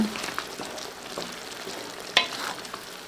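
Sarsiado, fish cooked with egg, is stirred in a frying pan under a soft, steady sizzle, with occasional scrapes and one sharp clink of the utensil near the end.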